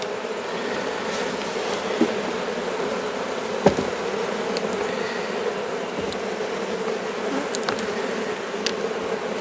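Honeybees fill a beehive with a dense, steady buzz that stays even and close throughout, with a couple of faint knocks and clicks from the hive and no talking.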